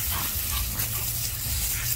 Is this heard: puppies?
yes